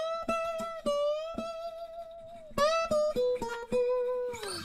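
A slide guitar plays squeaky high notes in an intro, sliding up the neck from G. Plucked notes glide and waver, close and clear, with no voices.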